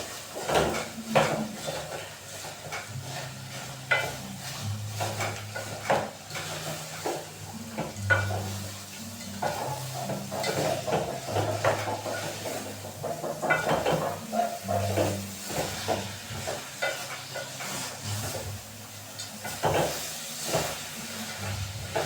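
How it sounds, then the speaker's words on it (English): Sardines frying in a pan with onions give a steady, close sizzle and hiss, with occasional stirring and clinks of utensils against the pan throughout, and no talking. "I put my sardines."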